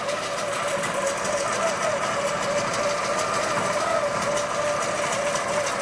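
A Butler Robotics longarm quilting machine runs with a steady, loud, continuous mechanical whir and hum, with faint voices in the background.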